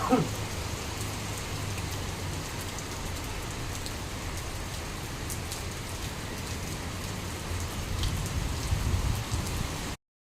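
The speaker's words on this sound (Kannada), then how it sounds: "ಇವಾಗ ಬಂತು ಮಳೆ ತುಂಬ ಲೇಟಾಗಿ ಬಂತು" Rain falls steadily on a home's surroundings, a continuous dense hiss of drops hitting surfaces with occasional louder patters, close and unbroken until it cuts off.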